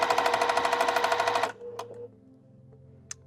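A sewing machine stitches quilt pieces in a fast, steady, close-up whir of needle strokes for about a second and a half, then stops, leaving a quiet room with a couple of faint clicks.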